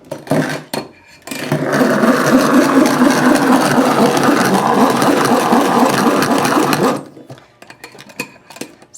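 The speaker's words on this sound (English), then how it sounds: "about a cup of sugar that I'm going to mix together, beat together" Three eggs and about a cup of sugar are beaten together for a carrot souffle, producing a steady, close motor whir that runs for about six seconds between quieter handling noises.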